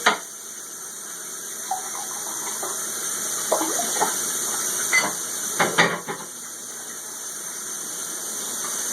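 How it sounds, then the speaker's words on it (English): Tap water runs steadily while a dish is rinsed under it, with a handful of faint squeaks and clinks of the dish breaking through the constant hiss of the stream. "Rinse the dish."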